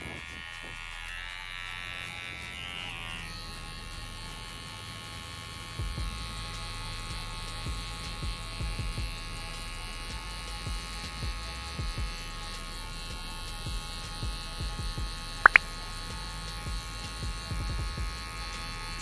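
An electric hair clipper with a zero guard buzzes steadily up close while trimming a fade haircut. The drone runs continuously for the whole stretch, with faint handling noises and one brief sharp click partway through.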